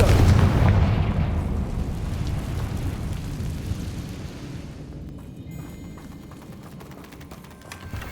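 A Confringo blasting-spell explosion in the Hogwarts Legacy video game: a loud, deep boom that hits at once and then rolls away into a long, fading rumble.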